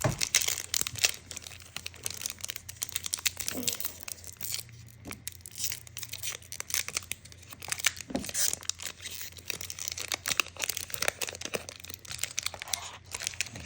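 Pokémon card booster pack wrappers are torn open one after another, giving crisp foil rips and crinkling in repeated bursts up close, with a low steady hum underneath.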